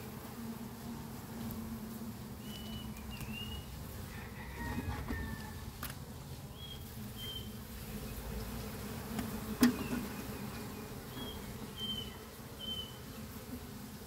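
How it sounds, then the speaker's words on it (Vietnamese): Bees hum softly around a hive housed in a foam box, a weakened colony down to two frames. The low, continuous buzz stays faint and even throughout, with a few passing higher insect whines and no voices. "Đây cũng là một cái thùng ong mình nuôi trong thùng xốp luôn."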